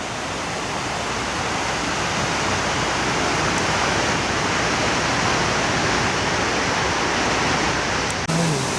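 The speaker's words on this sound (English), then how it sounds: "This is a waterfall coming down from the mountain that feeds the little pond at Whitney Portal." A mountain waterfall pours down to feed a small pond at Whitney Portal, a loud, unbroken roaring rush that stays constant and close throughout, with a brief bump near the end.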